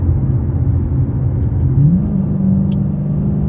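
Steady low engine rumble of a Chrysler 300C SRT8 6.1L Hemi V8 cruising in fourth gear with a Dynomax Race Bullet exhaust, a deep constant note with a brief rise in pitch midway, loud and close, no talking.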